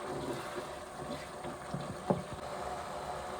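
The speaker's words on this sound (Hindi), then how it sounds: "ये देखिए टमाटर अच्छी तरह नरम हो गए और मसाला भी भुन रहा है" Tomato masala frying in a pan with softened tomatoes for aloo bharta, a steady low sizzle and bubbling throughout with one sharper pop near the middle, fairly quiet and alone.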